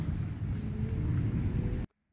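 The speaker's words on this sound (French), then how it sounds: "Oh, il pleut." Steady, dense rain with a low rumble pours during a violent July thunderstorm in southern France. It holds at an even level, then cuts off abruptly.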